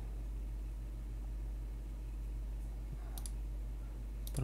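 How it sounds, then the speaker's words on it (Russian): Online case-opening roulette spinning toward its stop, a steady repeating electronic ticking with brief sharper clicks near the end, over a constant low hum and no talking. "О, сейчас уже к концу прокрутка подойдет."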